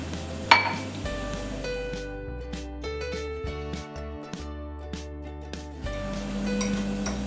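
Gram flour batter with chilli powder, turmeric, baking soda and salt is whisked with water in a bowl, giving soft clinks and scraping taps of a spoon against the bowl, close and moderately quiet, with no talk.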